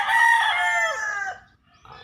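A young gamecock stag in a backyard gamefowl yard gives one loud, close crow lasting over a second, trailing off into quiet with a faint call after.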